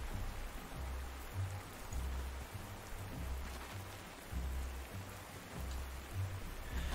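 Steady rain pours throughout in the wartime strategy game Panzer Corps 2, a dense, even hiss with soft low rumbles pulsing beneath it, fairly quiet and with no voices.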